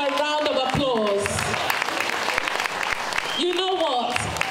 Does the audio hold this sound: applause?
yes